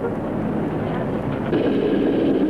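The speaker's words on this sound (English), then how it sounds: "Trolley cars still run into downtown Pittsburgh, as shown here." Pittsburgh trolley car running on rails in 1975, a continuous low rumbling rail noise that swells slightly as it passes, close and fairly loud with no talk.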